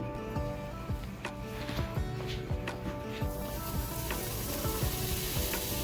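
Chopped kielbasa sausage sizzles in a frying pan over a medium flame, a close, steady crackle with pops and the scrape of stirring running throughout.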